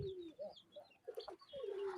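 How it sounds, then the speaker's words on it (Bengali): Pigeons on a farm coo softly nearby in a few low, rolling calls, close together and fairly quiet. "আমাদের কবুতরগুলো আপনাদেরকে একটু দেখাচ্ছি তো ওরা কিন্তু এখন ডাকে"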